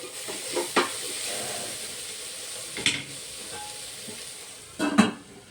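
Capsicum curry frying in a pan, a soft steady sizzle and hiss with a few brief stirring clanks spaced apart, close by and without speech.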